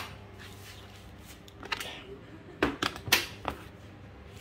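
A Honda Beat Deluxe's keyless seat lock releases with a few sharp, close mechanical clicks and clacks, followed by the seat being lifted, over faint background noise.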